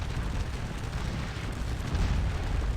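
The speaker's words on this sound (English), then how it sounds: "13 guys down on cannon fire" Cannon fire booms across a Napoleonic Waterloo battlefield in the Scourge of War: Waterloo strategy game, a dense, continuous rumble of distant artillery and blasts with no talking.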